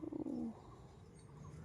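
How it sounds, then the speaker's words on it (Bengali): A pigeon coos close by in a short, soft burst of low throaty notes, then falls quiet against faint background noise. "ছি ছি ছি রে পায়রা, ছি ছি ছি।"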